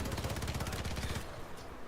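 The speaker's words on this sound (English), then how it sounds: "I am shooting" Rapid automatic gunfire from Call of Duty: Warzone, a dense rhythmic burst of shots lasting over a second, then fading into quieter background noise.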